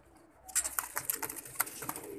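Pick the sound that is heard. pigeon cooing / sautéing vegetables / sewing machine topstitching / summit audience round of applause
pigeon cooing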